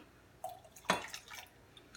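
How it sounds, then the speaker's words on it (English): Borax solution dumped into white glue to make gak, giving a brief wet splash and drip near the middle, preceded by a small splat, with faint liquid trickles afterward and no talking. "I'm going to dump the borax into the glue."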